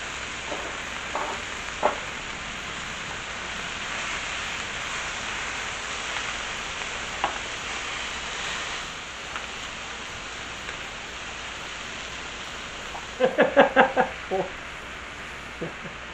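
Shrimp sizzle on a hot Blackstone griddle, a steady broad frying hiss running throughout, with a louder crackling burst of spatter near the end.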